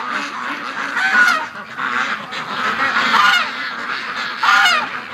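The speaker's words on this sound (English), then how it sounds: "The ducks are getting in position to go in the pan. Just listen to them." A flock of ducks crowded against a wire fence near feeding time gives loud, continuous honking quacks that overlap and rise in bursts throughout, with no talking.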